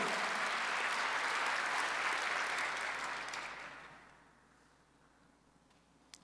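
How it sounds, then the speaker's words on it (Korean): Church congregation at a Sunday worship service giving loud, dense applause that holds steady, then fades over a couple of seconds into a quiet room. "박수 한번 더 주세요."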